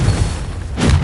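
A Confringo blasting spell explodes in the Hogwarts Legacy video game, a loud, deep boom that rumbles steadily through the second and swells again near the end, with no talk over it.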